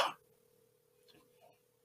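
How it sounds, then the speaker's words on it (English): A person coughs once, sharply and close, into a face mask. Faint breathy sounds follow in the quiet afterward. "I'll cough into it"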